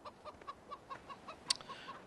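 Hens in the video game Farming Simulator 2013 cluck softly in a quick, irregular series of short calls, with one slightly louder squawk partway through and no voices.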